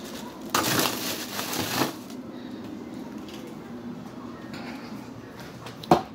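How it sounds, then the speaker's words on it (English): A bag of ice is pushed back into a home freezer with a close, crunchy crinkling rustle that lasts about a second and a half. A soft thud follows later. "let me put this ice back in the freezer."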